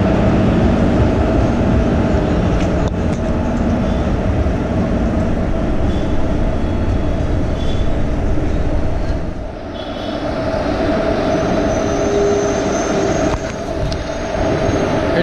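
An SWR passenger train rake rolling past on rails, a loud, steady rumble of wheels and carriages with faint squeals and a brief dip partway through, close by throughout.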